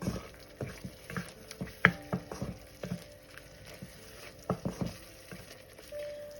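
Chicken liver being stir-fried in a pan, with repeated sharp scraping and clinking of a spatula over a quiet sizzle; the strokes come in irregular bursts, close to the listener, and no voice is heard.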